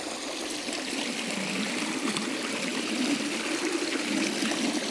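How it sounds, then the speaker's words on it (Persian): Steady rushing and trickling of water from a hot spring running out of a built channel in South Khorasan, Iran, a continuous close babble with no voices. "اینجا هم چشمه آب گرمه، باز آب گرم و عالی داره."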